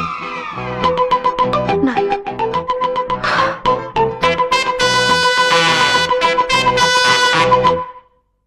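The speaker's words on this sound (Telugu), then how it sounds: "డాక్టర్, మీకు ఫోన్." A telephone rings in a domestic film scene, a repeating electronic melodic trill that carries loud and alone for several seconds before stopping.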